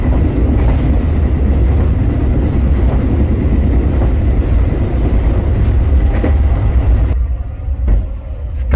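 Airlangga passenger train rolling along the rails near Weleri station, a loud steady rumble with clattering wheels that fades and drops away in the final seconds.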